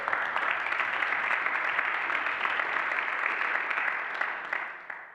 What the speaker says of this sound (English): Give them a round of applause, they deserve it.